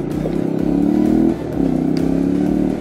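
An Italika FT 125 motorcycle engine revs on a ride, a loud close droning buzz that climbs in pitch, drops briefly at a gear change, and climbs again.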